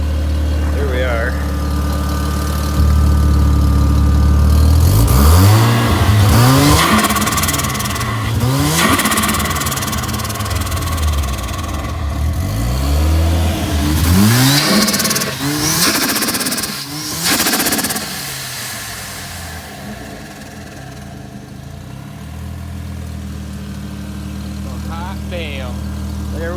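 A Mazda Eunos Cosmo with a 13B rotary engine running loud and close after its first start, rising and falling through repeated revs above a rough idle, with a voice briefly heard over it.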